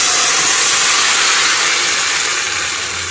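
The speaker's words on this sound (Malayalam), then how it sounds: "നമുക്കിതിലേക്ക് വറ്റൽ മുളക് ചേർത്ത് കൊടുക്കാം." Dried red chilies sizzle in hot oil for a mixed vegetable dish, a loud, steady hiss that fills the whole stretch without pause or voices.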